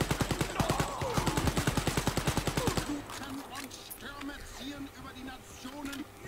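Rapid automatic gunfire from the Wolfenstein Youngblood video game played on a PS4 Pro, a loud steady burst of evenly spaced shots for about three seconds, then quieter game action and effects continue.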